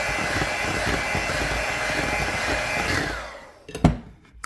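An electric mixer beats chocolate peanut butter cake batter with a loud, steady whirring that runs for about three seconds, then winds down and stops, followed by a couple of knocks.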